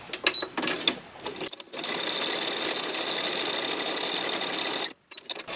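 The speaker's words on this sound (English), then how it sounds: "I'll just sew this bit down" Sewing machine stitching fabric for a snippet roll, a steady close rattling whir running for several seconds with short stops and starts at either end.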